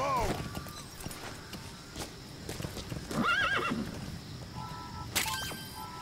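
A horse in Metal Gear Solid V: The Phantom Pain gives a loud whinny, and hooves clop steadily among other game effects.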